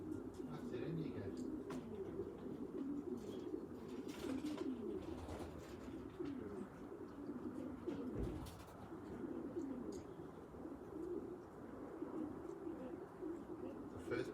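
Racing pigeons coo steadily in a loft after a delayed Grantham race, a dense, continuous murmur of low throaty calls close by with occasional wing flutters.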